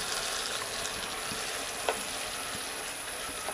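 Chopped ingredients fry for chicken kondattam with a steady, soft sizzle throughout, broken by a couple of faint utensil clicks; no voices are heard.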